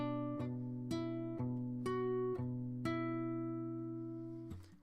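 Acoustic guitar slowly picking the riff from a song, soft and close, with single plucked notes at a steady unhurried pace ringing over a sustained low bass tone, ending with a brief scrape.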